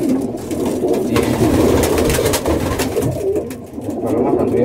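Racing pigeons cooing in a loft, low, throaty coos rising and overlapping from several birds close by, with scattered fluttering and faint rustling throughout.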